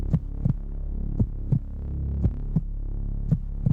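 A slow, regular heartbeat thumps over a low steady hum, with about eight soft double beats, close and clear, and no voices.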